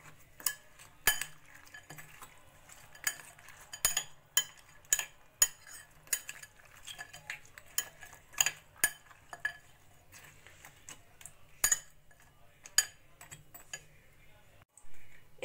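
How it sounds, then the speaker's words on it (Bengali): A spoon stirs fruit cake mixture soaked in orange juice in a bowl, giving scattered light clinks and taps against the sides, some sharper than others, fairly quiet and close, with faint talk at moments. "এবার একটা চামচ দিয়ে ভালো করে মিশিয়ে নেব।"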